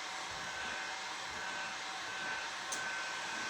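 A hair dryer blows steadily and close by, drying fresh paint on a thrifted furniture piece, a constant whooshing roar with no break.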